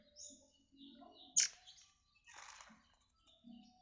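A murai air, or magpie robin, songbird calls in short chirps and whistled phrases, including one sharp loud note, separated by brief quiet gaps and heard close and alone.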